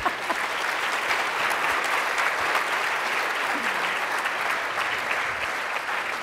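Audience applause at a women-in-conservation breakfast talk, a steady dense clapping from a roomful of people that runs evenly through the whole stretch.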